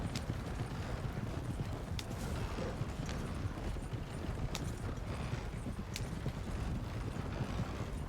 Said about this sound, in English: these horses are fast,